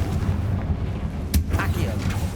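A Confringo blasting spell explosion from Hogwarts Legacy lands as one sharp burst partway through, set against a rumbling, noisy game soundscape with a voice speaking around it.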